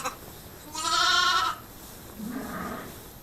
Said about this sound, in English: Mum talks to her lambs.